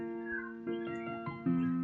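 A short excerpt of a music signal, steady harmonic tones with a few note changes and a louder entry near the end, clean and fairly quiet with no talk.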